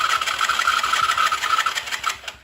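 A 160cc motorcycle's electric starter whirs steadily for about two seconds, a close, loud cranking with a faint rhythmic pulse, and the engine does not catch before it stops.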